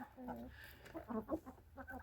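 Hens of a particular chicken breed cluck in short, bursting calls at close range, quiet overall, with a voice talking alongside.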